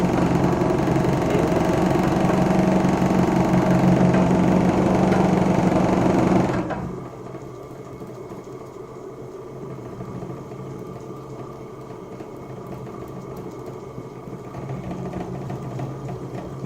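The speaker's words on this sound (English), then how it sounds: "as soon as I connected the charged capacitor bank, the alternator jumped to the excitation mode and it slowed down the motor" A shaky DC motor drives an alternator at a loud, rattling hum that suddenly drops and slows when a charged capacitor bank is connected, continuing as a quieter, lower running drone.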